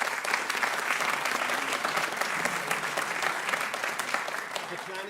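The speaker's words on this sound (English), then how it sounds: "Round of applause." An audience applauds at the final round of an international vocal competition, a sustained, dense clatter of many hands clapping at a steady level for several seconds, heard from a little distance.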